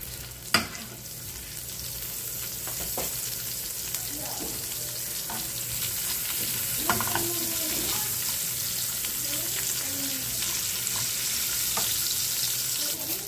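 Garlic and onion frying in a pan, a steady close sizzle with occasional stirring scrapes and clinks throughout.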